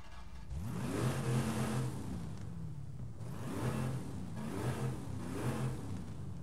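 Buick car engine in Forza Horizon 5 revving up repeatedly, three rising and falling revs topping out around 5,500 RPM, steady and fairly loud with no talk.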